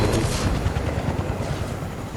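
Helicopter in the Fortnite video game, a steady loud thrumming rotor drone with a rapid low pulsing beat throughout.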